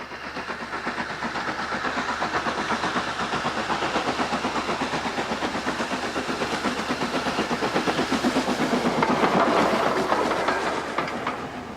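An old steam train on the Bluebell Railway, a heritage line, rolls steadily along the track with a continuous rhythmic clickety-clack of wheels and a rumbling, hissing undertone, loud and close throughout.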